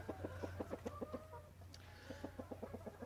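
A young hatch gray gamefowl stag clucks in quick, evenly spaced pulses, close and fairly clear, in two bursts with a short pause between and a low steady hum underneath; no one speaks.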